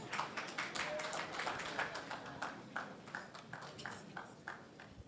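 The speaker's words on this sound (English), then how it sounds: "A round of applause." Applause from a conference audience at an entrepreneurship festival opening, scattered claps of moderate loudness continuing for several seconds and gradually thinning toward the end.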